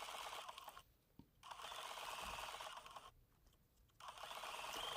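A sewing machine stitches fusible applique on a quilt block, running in two steady mechanical bursts separated by brief quiet pauses, close and fairly quiet.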